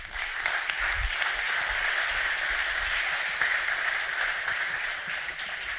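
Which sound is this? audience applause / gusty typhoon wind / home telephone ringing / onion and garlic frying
audience applause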